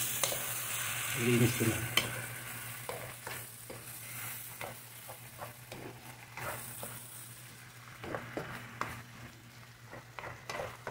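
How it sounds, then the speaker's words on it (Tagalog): Half a kilo of cuttlefish squid sizzles and fries steadily in a pan, with stirring clatter and scraping throughout and a brief spoken remark early on. "Ilagay na natin yung kalahating kilong pusit"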